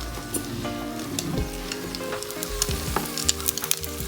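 Sausages sizzle and crackle steadily in a hot pan close by, with occasional louder pops and a few faint clinks.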